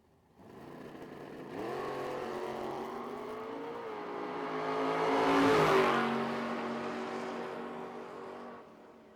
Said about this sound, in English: Another roadster in the right lane trying to go 596, taking on Jeremy Heffler in that way cool Ford Bronco over on the left.